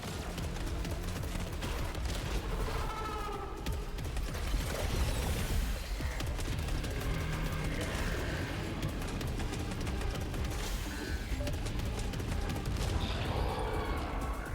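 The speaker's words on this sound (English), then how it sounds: "I don't know that I love this hand cannon either." Hand cannon gunfire in the video game Saros, with dense bursts of shots mixed with mechanical clanks, ratcheting and crashing effects, loud and continuous throughout.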